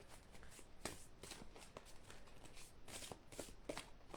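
Tarot-style cards being shuffled for a card reading draw, quiet close riffles and slaps in irregular bursts, heard alone without talk.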